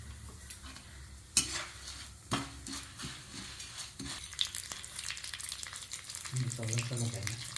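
Garlic browns in sesame oil for a garlic kulambu, a low steady sizzle running throughout with a few sharp spoon scrapes and clinks against the pan.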